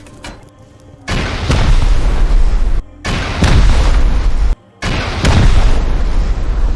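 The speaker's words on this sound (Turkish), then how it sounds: "Buradan atıyorum. Yedi roket atacağım." Rocket explosions during a raid in the video game Rust, three loud booming blasts in succession, each a sustained roar separated by brief silent gaps, with no talking.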